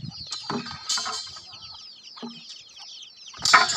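Chickens cluck in short irregular bursts, close by, with a louder flurry of clucking toward the end.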